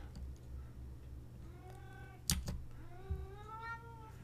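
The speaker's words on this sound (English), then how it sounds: "You can hear my cat kind of howling in the background." Pet cat howling in a quiet room, two drawn-out wavering yowls, the second rising and falling, with a couple of sharp knocks between them and a low steady hum underneath.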